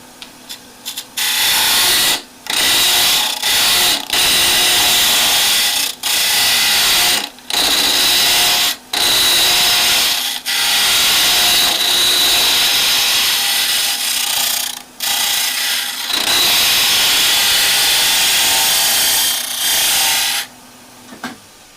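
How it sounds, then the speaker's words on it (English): A woodturning lathe hollows out a wooden quilter binding barrel with a hunter tool, a loud continuous scraping cut broken by several short pauses, with no talking. "I'll just go ahead and finish hollowing this as deep as I can"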